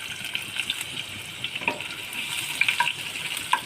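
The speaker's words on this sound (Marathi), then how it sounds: "आता हे लसूण तेलामध्ये मी फ्राय करून घेतले" Garlic frying in oil in a pan, a close, steady crackling sizzle with scattered sharper pops, heard alone without talk.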